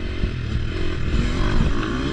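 Motorcycle riding on a track during Dakar rally preparation, a loud, close, continuous engine drone with rough mechanical rattle and slight revving.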